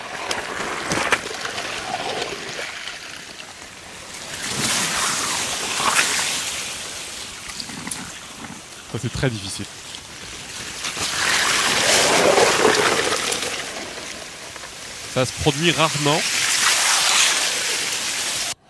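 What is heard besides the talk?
ice sounds of the frozen Loire river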